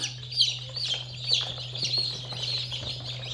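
Chickens clucking and chirping in repeated short calls, fairly close, over a steady low hum, likely an incubator setting, with no talking.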